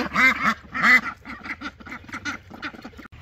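Ducks quack inside a duck house in a barn on a small farm, a few loud, close calls in quick succession followed by softer, chattering quacks.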